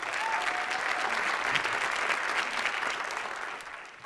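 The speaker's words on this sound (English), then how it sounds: "So let's give TV Tacoma a big round of applause." Sustained audience applause at the City of Destiny Awards ceremony in Tacoma, a dense steady clatter of many hands that holds for about four seconds before tapering slightly at the end.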